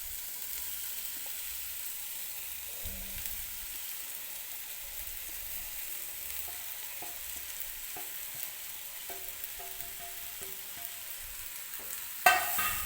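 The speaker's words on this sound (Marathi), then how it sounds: "आता आपण जे भिजवून घेतलेले चिरमुरे आहेत ते मी याच्यामध्ये टाकून घेणार आहे।" Soaked puffed rice for a Karnataka-style susla breakfast is stirred in a hot pan: a soft, even sizzle with intermittent scraping and light clinks, then a sharp clatter near the end, with no voices.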